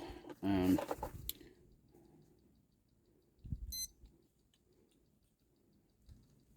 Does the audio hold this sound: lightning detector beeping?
yes